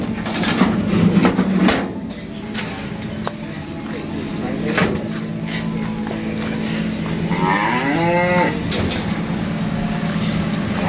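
Cattle low at an Indonesian farm selling cows from Java, with one clear rising moo late in the clip over a steady engine-like hum and scattered clatter.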